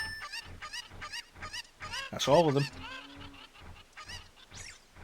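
Cucco chickens in The Legend of Zelda: Ocarina of Time let out a brief burst of honking, clucking calls near the middle, heard over someone talking throughout.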